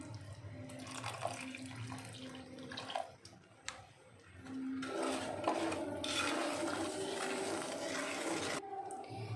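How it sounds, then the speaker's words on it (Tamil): A tumbler of water poured into a cooking pan while making a banana sweet, a steady splashing, trickling pour that swells after a brief lull, fairly quiet and close. "இதில் நம்ம 1 டம்ளர் தண்ணி ஊற்றிக்கலாம்."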